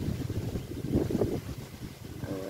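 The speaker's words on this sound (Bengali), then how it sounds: "আমাদের এদিকে ঝড় তুফান শুরু হয়ে গেছে, কি বাতাস" Strong storm wind with heavy gusts buffeting the microphone, a low rumbling roar that swells and fades, fairly quiet overall, with no talk over it.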